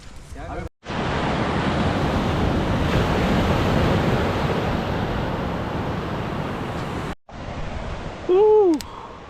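Ocean surf at Auroville beach, Pondicherry, a steady loud broadband wash with strong wind buffeting the microphone, briefly cut twice, and a short tonal sound near the end.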